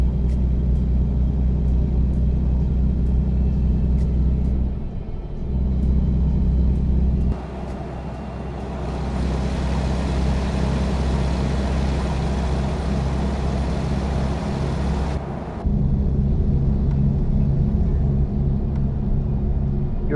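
A truck hauling a trailer drives in the Assetto Corsa racing game, with a steady low engine rumble throughout and a brighter, louder stretch in the middle as the throttle opens.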